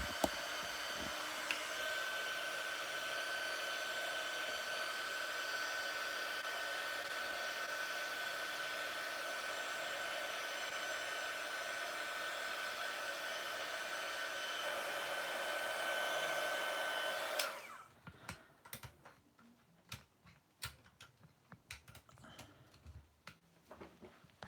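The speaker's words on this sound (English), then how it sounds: "I'm just using my heat gun off camera here." Heat gun blowing hot air at a Marvel Legends Deadpool toy figure, a steady loud whoosh for about seventeen seconds that cuts off abruptly, followed by faint clicks and handling noises.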